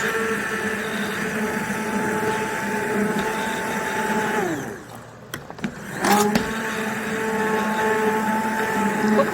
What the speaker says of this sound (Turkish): Şimdi de blenderdan geçireceğim ben bunları.